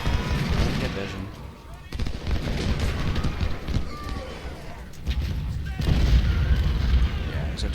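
Artillery fire in the Ultimate General: Civil War game, a dense, continuous stretch of rumbling cannon booms and gunfire, loud and blended together.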